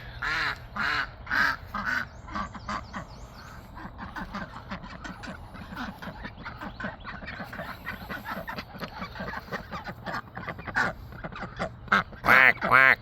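Ducks on a farm quack repeatedly in loud, close bursts, with a louder flurry near the end; a person talks over them in places.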